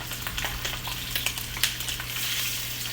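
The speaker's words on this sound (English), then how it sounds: "a nice little sizzle" Chicken sizzles steadily in a hot frying pan, with crackling pops scattered over a constant hiss and a low hum underneath.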